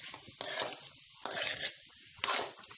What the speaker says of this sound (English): I'm adding the whole peas to it. Stir it.